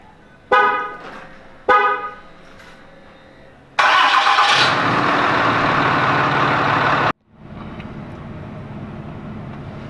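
Two short honks of a Ram truck horn are followed by a loud engine start and about three seconds of roaring cranking that cuts off abruptly. A quieter idle with the Banks Ram-Air intake then continues, and nobody talks.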